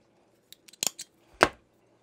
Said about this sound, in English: I'm just gonna cut some little relief cuts here so I can fold it over the edge of this cone.